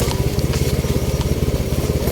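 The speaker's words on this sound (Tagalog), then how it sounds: "mapalaban pa ang motor dito guys" An old, worn motorcycle labors over a rocky, muddy road, its engine chugging in a steady, rapid pulse that stays loud and close throughout, with no one talking.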